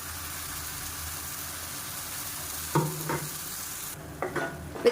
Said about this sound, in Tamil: சேர்த்துட்டு நல்லா வதக்கி விட்டுக்கலாம்